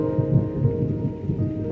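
A rainy-day thunderstorm: a low continuous rumble of thunder blended with the steady patter of rain, brief and unbroken, with no voices.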